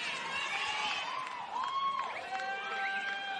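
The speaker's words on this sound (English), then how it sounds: "Crowd really getting involved here too now at Ballymore Stadium" Stadium crowd at Ballymore Stadium during a women's rugby national championship final between Queensland and New South Wales, a steady roar of cheering and shouting throughout with rising calls and a few whistles.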